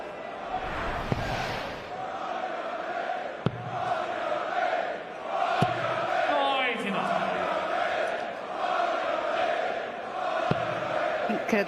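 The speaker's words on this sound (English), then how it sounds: "The crowd's going through all the Dutch players and the tunes that they know" Darts arena crowd at the PDC World Championship chanting and singing the tunes of the Dutch players, a dense continuous roar of many voices with occasional sharp claps and thuds, steady and loud throughout.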